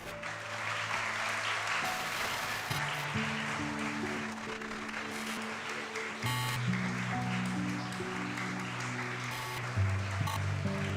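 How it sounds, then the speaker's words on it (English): Audience clapping at a school investiture ceremony, dense continuous applause lasting throughout while sustained instrumental tones play underneath. "Please continue to clap."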